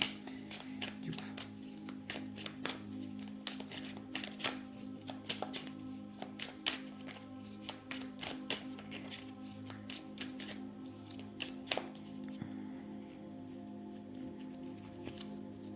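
Tarot cards shuffled by hand up close, a long run of crisp, riffling snaps and slides in an irregular rhythm, with quiet pauses between bursts and no voices.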